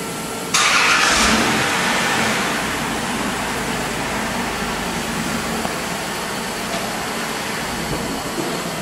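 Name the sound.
car engine running and revving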